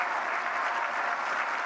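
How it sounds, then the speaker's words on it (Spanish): Dense applause fills a political rally crowd in Zinapécuaro, Michoacán, a loud, unbroken wash of clapping held at the same level throughout. "Más fuerte el aplauso para el presidente López Obrador, que se oiga hasta allá, hasta Palenque."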